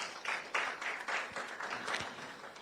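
An audience at a student competition prize announcement applauds, a brisk, fairly even patter of many hands clapping at moderate volume throughout.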